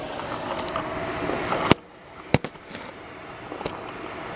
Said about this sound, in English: but it's just fireworks.